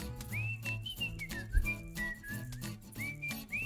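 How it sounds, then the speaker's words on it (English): A person whistles close by, producing sliding, wavering notes in short phrases over a low background hum. "I hear a sound, this whistle"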